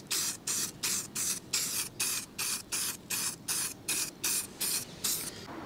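Aerosol paint sprayed onto the mudguard bracket of a Honda CBR125 motorcycle to cover rust, in about fourteen short, evenly spaced bursts of close, bright hiss with no talking.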